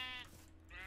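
Two brief sheep bleats from the video game Minecraft, one at the start and one near the end, fairly faint over a low background hum.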